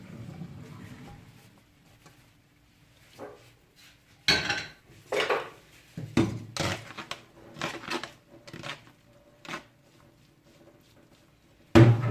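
Cooked chicken for chow mein is moved into a dish. It gives a series of close, sharp metal clinks and scrapes of a utensil against a pot, irregularly spaced, after a quiet start.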